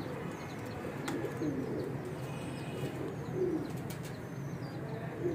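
A flock of pigeons, including Weshi, Kansani and Sialkoti breeds, coos continuously at close range, soft throaty calls overlapping in a low rolling chorus, with a few faint chirps and wing sounds.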